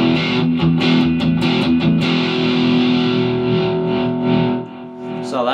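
A 2015 Epiphone Les Paul Standard Pro electric guitar plays through heavy distortion, with sustained, thick chords and several picked attacks ringing loudly before the sound dips near the end.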